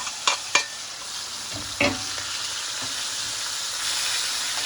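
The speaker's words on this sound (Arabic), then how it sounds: "الزيت بتاعنا سخن، هنعمل ايه؟ هننزل بالشاورما" Pieces of chicken-breast shawarma hit hot oil with a few sharp splashes, then settle into a steady, close sizzle and hiss of frying.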